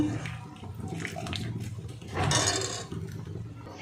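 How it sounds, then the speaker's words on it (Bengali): Boiled Maggi noodles tipped into a strainer to drain, water splashing and running through with a louder gush midway, close and continuous with faint kitchen clatter. "এই ছাঁকনির মধ্যে ম্যাগিটা তুলে নেব, মানে জল ঝরিয়ে নেব।"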